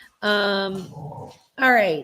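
Dogs in a home whimper and yelp in loud, high, whining bursts at the start and end, with a person's brief words in between.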